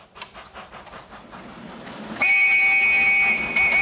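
A fast train rushes past, beginning with faint rattling and clicking, then a sudden loud roar joined by a sustained high horn blast.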